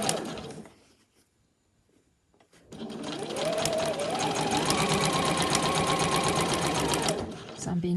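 A domestic sewing machine stitches fabric for a scrunchie, running in a steady fast whir for several seconds after a brief pause, with someone speaking over it.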